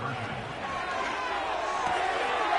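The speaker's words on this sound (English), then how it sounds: "Listen to this crowd." Stadium crowd roaring during a two-point conversion attempt at a football game, a dense continuous wash of cheering that swells slightly toward the end, with a commentator talking over it.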